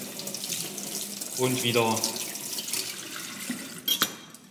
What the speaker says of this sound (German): Deswegen immer hinterher mit klarem Wasser abspülen